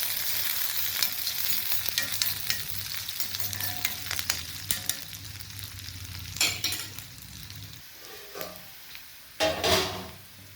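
Hot oil tempering with curry leaves sizzles and fries steadily at close range for an eggplant sambar, with spatters and stirring clicks over a low frying hiss, flaring louder near the end.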